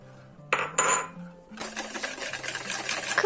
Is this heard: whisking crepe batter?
yes